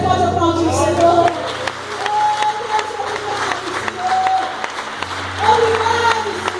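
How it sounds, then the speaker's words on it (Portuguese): A church congregation at a Portuguese-language worship service applauds the Lord in a steady wash of clapping, mixed with sustained musical tones and a voice. "Você pode aplaudir o Senhor."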